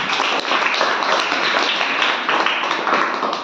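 Schoolchildren in a classroom clapping for a classmate, a busy, even patter of small hands kept up at a lively pace throughout, with no talking over it.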